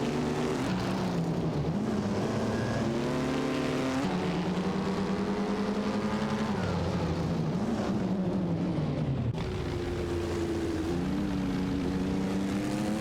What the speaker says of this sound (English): Pillow Flame and Komodo 3K are in a Mercedes-Benz W125, while PHYRE and Rickerstic are driving an Auto Union Type D.